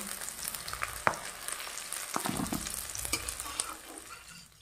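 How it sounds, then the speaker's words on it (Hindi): Garlic, onion and ginger fry in hot mustard oil, a soft continuous sizzle with crackles and several sharp spoon scrapes of stirring, close and fairly quiet. "अब हम इसी में लहसुन प्याज और अदरक को डालकर हल्का सा फ्राई करेंगे"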